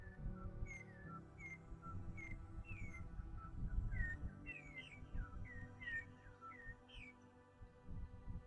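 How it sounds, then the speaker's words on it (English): Several birds whistle and chirp outdoors at a green golf course beside the ocean at sunset, a series of clear, repeated rising and falling notes over a low steady background hum, with no talking. "And all the birds are singing here, especially for us."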